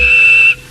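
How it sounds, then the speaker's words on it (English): A railway guard's whistle gives one loud, steady shrill blast that stops abruptly, leaving quiet rumbling behind. "The guard blew his whistle"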